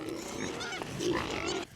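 Kunekune pigs grunt and snuffle close by in a low, rough, continuous chorus being roused on a farm.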